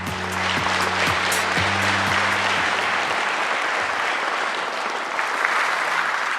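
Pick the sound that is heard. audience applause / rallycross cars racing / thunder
audience applause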